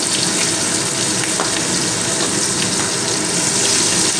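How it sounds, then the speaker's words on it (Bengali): Chopped onion sautéing in hot oil with panch phoron in a pan for a cauliflower-stem dish, giving a steady, close, even hiss and crackle that runs the whole time with no voices. "পেঁয়াজ কুচানোটা একটু সময় তেলের মধ্যে কষিয়ে নেব"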